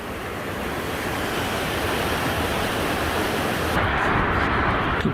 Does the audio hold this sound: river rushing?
yes